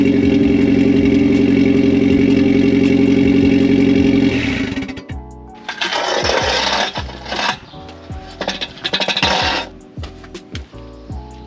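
A Mitsubishi Evo X fitted with an Invidia Q300 exhaust fires up, first with a steady droning tone, then a loud raspy catch and flare, settling into a burbling idle with a few sharp revs.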